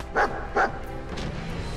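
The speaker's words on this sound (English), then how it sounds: "What are you barking at? Someone above us?" A dog in the video game Fallout 4 gives two loud, close barks about half a second apart, followed by quieter game background sound.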